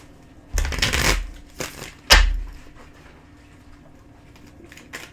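Tarot cards shuffled by hand in two short riffling bursts, the second ending with a sharp snap, then near silence with faint handling.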